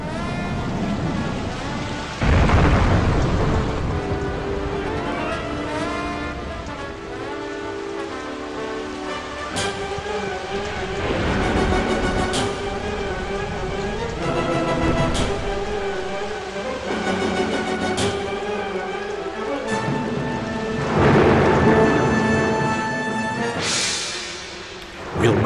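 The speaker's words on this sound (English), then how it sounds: "Loud, deep and long the thunder bellowed." Storm thunder and rain: deep rumbling thunder bursts and steady rain hiss, loudest near the start and again near the end, set under continuous music.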